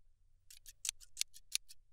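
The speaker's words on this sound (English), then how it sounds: "These are surgical-grade scissors." Surgical-grade scissors snip close and crisp in a sci-fi med bay setting, about seven quick cuts in an uneven rhythm over faint low hum, with no talk.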